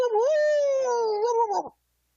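A voice imitates an Arizona hound dog howl, a single long, wavering, sliding howl held for about a second and a half before breaking off and dropping into silence, close and loud.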